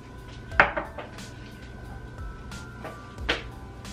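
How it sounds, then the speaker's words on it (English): A spoon clinks against a bowl while heaping teaspoons of pesto sauce are added, with two sharp ceramic knocks standing out among faint kitchen clatter. "I'm gonna put two of these heaping teaspoons of the pesto sauce in my bowl."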